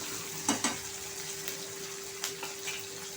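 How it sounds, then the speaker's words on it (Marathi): Green chillies frying in a pan over low-to-medium heat, a close, steady sizzle punctuated by a few sharp spits and stirring scrapes, over a faint constant hum, no talk. "आता हे 2-3 मिनिटं आपण परतून घ्यायचं आहे मिरची छान अशी।"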